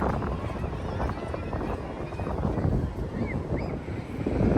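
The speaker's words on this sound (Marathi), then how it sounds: "खळखळणारा आवाज असा आहे" Sea waves wash and rumble continuously at Shrivardhan beach, a broad steady surf roar mixed with wind buffeting the microphone, with faint distant voices and crowd noise beneath.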